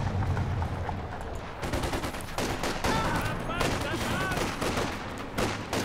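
An MG34 machine gun fires in the strategy video game Company of Heroes 2, rapid bursts of gunfire amid a dense battle soundscape with other shots and explosions, loud and continuous.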